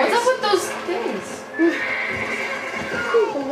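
A horse in the video game Red Dead Redemption neighs and whinnies repeatedly, loud and close, with hoof clip-clops and a voice talking in between.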